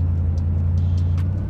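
A supercharged 900-horsepower LSX V8 in a custom '56 Pontiac Star Chief rumbles with a loud, steady low drone as the car pulls away, the engine note holding even throughout.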